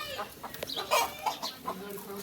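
Aseel chickens cluck on a farm in a series of short, close calls spread evenly through the clip, with faint background noise between them.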